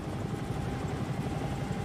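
Bell 222 helicopter holding a stationary hover in a flight simulator, a continuous dense rotor and turbine drone with a steady whine, loud and unbroken.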